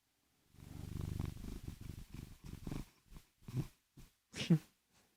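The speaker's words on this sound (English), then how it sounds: "You want to purr into the microphone?" A happy house cat purrs right up against a microphone, a close, soft, rhythmic rumble of repeated pulses that loosens into a few separate breathy purrs and sniffs toward the end, with no talking.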